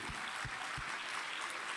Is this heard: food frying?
no